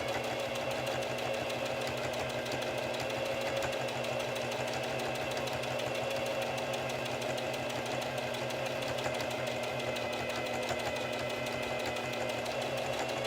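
A sewing machine stitches a backstitch at the start of a seam, its steady rapid mechanical whirr and needle chatter running loud and close without pause throughout, with no voices.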